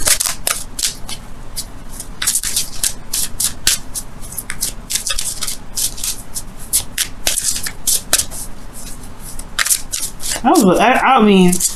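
Tarot cards are shuffled throughout, a dense run of quick riffling flutters and crisp slaps close by, with a voice speaking briefly near the end.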